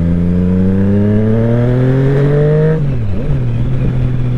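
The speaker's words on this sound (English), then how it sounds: "what do you reckon to the sound then, without the DB killer in, or the baffle" A 2020 Triumph Street Triple 765 RS motorcycle with the dB killer baffle removed from its exhaust, revving up in a loud rising howl before dropping off, then settling back into a steady idle.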